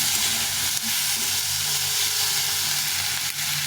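Tomatoes frying in a pan for a plain potato-tomato curry give a steady, close sizzle with soft steamy hiss, continuous and fairly loud, with no talk.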